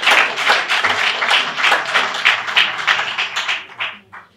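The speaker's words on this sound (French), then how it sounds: "applaudissons quand même Thierry Bouvard" An audience applauds at a live event, a full, dense wash of clapping that rises quickly and holds steady before thinning to a few scattered claps at the end.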